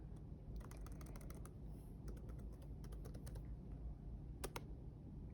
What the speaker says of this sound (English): you'll type in your student ID, and then you'll type in your password